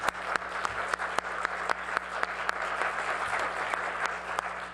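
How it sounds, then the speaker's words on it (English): A crowd at an evening State Assembly district candidates forum applauds steadily, a dense wash of clapping that holds at an even level throughout, close and without any talk over it. "please give them a round of applause"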